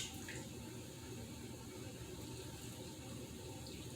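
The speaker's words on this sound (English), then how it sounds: "Put our brine over our peppers" Brine pouring from a pot into jars of diced and sliced jalapeno peppers, a steady faint liquid splash and trickle running continuously without pause.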